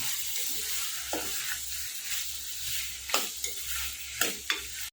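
Macaroni pasta with tomato ketchup, sugar and salt is stirred in a hot pan, a soft frying sizzle under repeated scraping spoon strokes, with several sharper scrapes and knocks toward the end.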